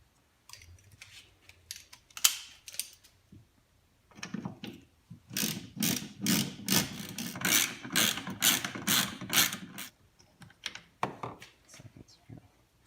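Ratchet working tail light screws out on a 2015-or-later GM SUV such as a Yukon or Tahoe, with short bursts of rapid clicking, then a longer run of steady ratcheting strokes, close and fairly quiet.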